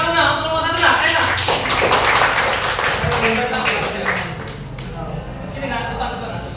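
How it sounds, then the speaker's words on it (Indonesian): Classroom students clap for group 1 after its presentation: a busy patter of many hands, steady and fairly close, with voices talking over it. "Ayo, tepuk tangan nak untuk kelompok 1 nak"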